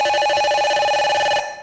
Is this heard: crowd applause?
no